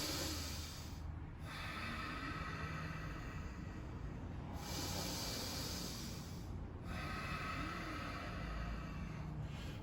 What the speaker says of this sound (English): I would immediately go into diaphragmatic breathing, and you can do that lying or standing.